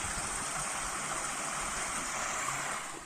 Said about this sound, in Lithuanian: upelė čiurlėnimas